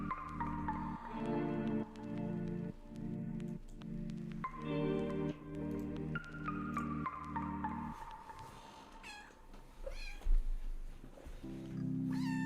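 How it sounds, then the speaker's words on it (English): A pet cat, a female, meows repeatedly close by, her drawn-out calls rising and falling over a steady layer of background tones, with no talking. "My cat, I think, is telling me to make a trade right now"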